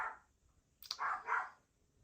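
A pet dog barks indoors, a few short muffled woofs clustered together after a faint yelp, moderately close and otherwise quiet.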